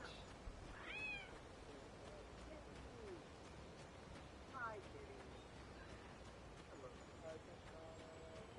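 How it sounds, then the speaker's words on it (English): A pet cat named Grimmy meows faintly two or three times, spaced apart, with quiet talk and low background noise in between. "This is my lovely cat."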